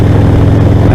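Harley motorcycle cruising along a country highway, a loud, constant low engine rumble with steady throb, heard close and alone.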